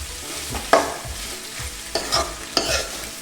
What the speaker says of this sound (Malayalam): നമുക്കൊന്ന് ഇളക്കി കൊടുക്കാം